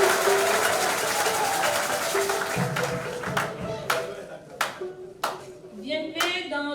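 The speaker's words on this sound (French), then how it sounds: "je voudrais vous inviter à donner des acclamations à toute la communauté d'Itou-Kébé" Congregation applause at a church service installing a new pastor: a dense burst of clapping that thins into a few scattered, distinct claps, with sustained tones lingering underneath.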